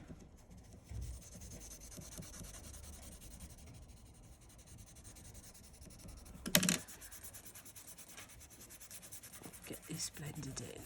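A pencil blends shading on paper during a shell drawing, making a quiet steady rubbing and scratching with a brief louder scrape midway and faint softer strokes toward the end.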